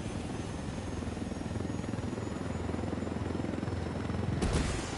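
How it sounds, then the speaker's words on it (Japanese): Rocket-armed helicopter in the video game Ghost Recon Wildlands, its rotor thumping steadily in a continuous loud drone that swells slightly near the end, with no talk. "これは貴重なヘリだわ。"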